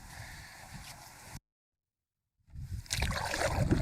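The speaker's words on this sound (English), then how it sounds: "I'm paddling against the headwind" A canoe pushing into a headwind: paddle strokes and water splash mixed with gusty wind noise. A dead-silent gap breaks it for about a second, then louder, rougher splashing and wind return.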